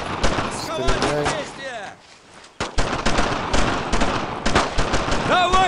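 Dense gunfire from the World War II shooter Brothers in Arms: Road to Hill 30, with loud, close rapid bursts and scattered shots running almost continuously and dropping briefly in the middle. Voices shout over the shooting.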